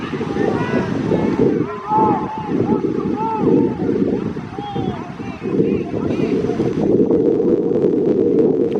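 Wind buffets the microphone with low rumbling gusts while someone talks over it continuously, commentating at a semi-pro football championship game.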